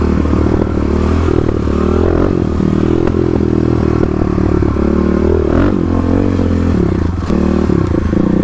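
A stage 3 Kawasaki KLX351 dirt bike ridden along Oregon forest trails, its engine droning loud and steady with rising and falling revs, plus clatter and scraping from the rough ground.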